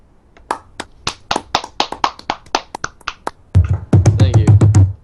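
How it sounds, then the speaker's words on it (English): A small podcast audience gives a round of applause for a guest named Army: sparse, individual close claps at first, spaced irregularly, then thickening into louder overlapping clapping with a low hum underneath near the end. "You guys want to give Army another round of applause?"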